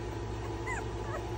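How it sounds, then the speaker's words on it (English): Two-week-old American Bully puppies, American standard type, whimpering softly with a couple of faint high whines over steady low room hum. "the 2-week update for the bully puppies, American standard bullies"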